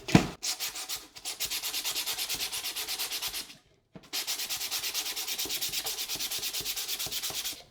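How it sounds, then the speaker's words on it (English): Rapid back-and-forth sandpaper strokes on a 3D-printed plastic mold rasp steadily and close up, pausing briefly once before the rhythmic scratching resumes. "All right, looks like it's sanding okay."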